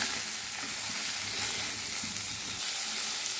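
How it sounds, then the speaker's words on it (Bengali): Fish frying in a pan over a medium gas flame, a dense, steady crackling sizzle that stays loud and even throughout. "গ্যাসের ফ্লেম মিডিয়ামে রেখে মাছগুলো আমি ভেজে নিচ্ছি।"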